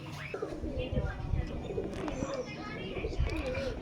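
Panjabi pigeons coo softly and repeatedly at close range, their low rolling calls blending with faint chirps and a busy background murmur.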